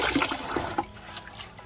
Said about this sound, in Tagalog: hugasan po natin yung malagkit natin mabuti.